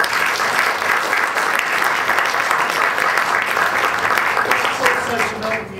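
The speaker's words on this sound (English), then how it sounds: "Just one final round of applause for 4 brilliant lectures this year." Loud, sustained applause from a lecture audience, a thick continuous patter of many hands that stays strong throughout and eases slightly near the end, with a voice faintly under it.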